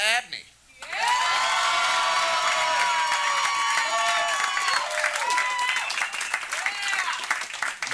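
A comedy show audience breaks into loud, sustained applause with cheers and whoops after a brief quiet moment, a full room clapping together for a comic.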